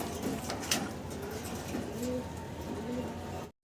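Pigeons at a pigeon market coo softly in short repeated calls against a busy background murmur, with faint bird chirps mixed in.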